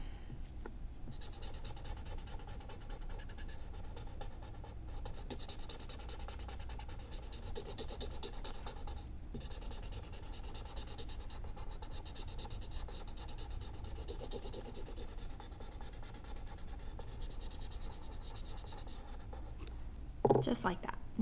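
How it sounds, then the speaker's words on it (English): A graphite pencil lightly shades on paper in a soft, continuous scratchy rasp, faint and steady for a long stretch with brief pauses. "so you just come in gently with your pencil"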